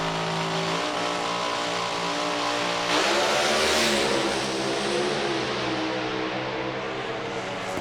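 A pro alcohol drag racing car roars loud and continuous at close range, its engine note building sharply around the middle as it launches down the strip before easing slightly toward the end.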